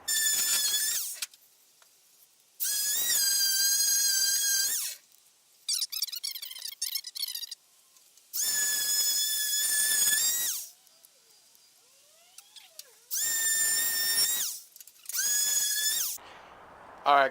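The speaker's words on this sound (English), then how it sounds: "I'll show you guys me sanding down the bed right now." An angle grinder works over a rusty truck bed in several loud, high-pitched whining bursts of a few seconds each, separated by pauses with scraping and handling noises in between.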